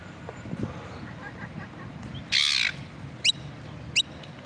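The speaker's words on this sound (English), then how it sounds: "It's an Indian miner. They're fucking very destructive little bird." An Indian myna in Melbourne's Flagstaff Gardens lets out one harsh, rasping squawk followed by two short, sharp chirps, heard outdoors over a low background murmur.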